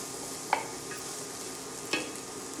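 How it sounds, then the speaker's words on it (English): Onions sautéing in a pan while shrimp sajji is cooked, with a soft steady sizzle and two brief scrapes of a stirring spoon, close and quiet. "you want to just kind of saute the onions a little bit"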